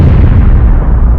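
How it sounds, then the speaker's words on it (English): A loud, booming explosion sound effect with a heavy, rumbling low end that fills the whole short moment, with no voices over it. "Did you hear that explosion?"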